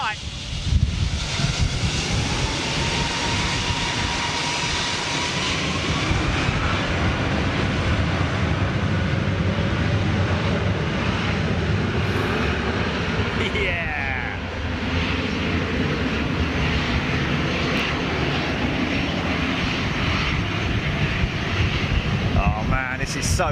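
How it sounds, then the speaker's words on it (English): A Boeing 757 with Rolls-Royce RB211 engines roars overhead, a loud sustained jet rumble and whine with wind buffeting the microphone; a voice talks over it. "looks like RB211's powering us. Rolls-Royce power, 757."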